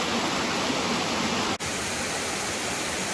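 Small waterfalls and a rushing stream along Double Run at Worlds End State Park, with water cascading into a pool below, make a loud, dense, steady roar that breaks off briefly for an instant midway.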